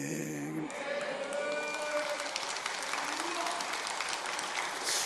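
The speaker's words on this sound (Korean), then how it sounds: "찬송을 부르면 박수치네." A church congregation claps after a hymn: steady, dense applause fills the room, starting as a brief stretch of singing fades and continuing evenly at moderate volume to the end.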